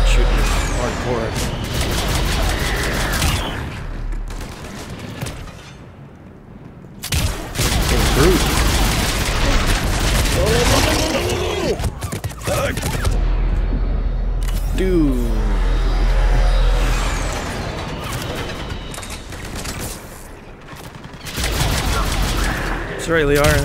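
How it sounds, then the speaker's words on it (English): Enemy gunfire in the Mass Effect 3 game, bursts of shots and fusillades hammering in again and again at close range, with loud booms and short gaps, mixed with game noise and a player talking. "Dude, that thing is fucking shooting us hardcore."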